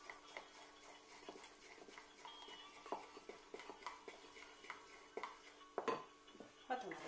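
A spoon scrapes and clinks steadily against a bowl, stirring a mixture of flour and oil. The sound is close and fairly quiet, with a few sharper knocks toward the end.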